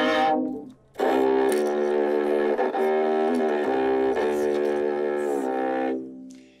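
A chiola, a low-pitched viola-like string instrument played under the chin, sustains one long, rich bowed note after a brief opening tone, close and alone.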